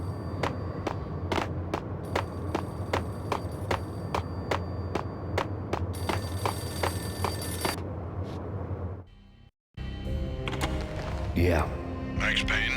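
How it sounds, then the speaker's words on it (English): A payphone in the Max Payne game on Xbox rings with a repeated electronic bell in a steady rhythm over a droning background, then cuts off as a voice begins talking. "The payphone started to ring."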